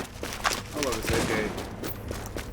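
AK rifle gunfire in The Division video game, a rapid burst of sharp shots at moderate level, mixed with other game sounds under a voice.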